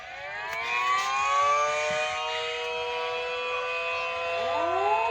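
A civil defense siren wails steadily from a distance, its rising and falling tones layered and sustained throughout, with no voices.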